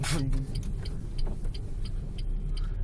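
A car engine stalls during a learner driver's first drive in traffic, a brief sputter followed by a low uneven rumble inside the cabin, with faint ticking and some voices.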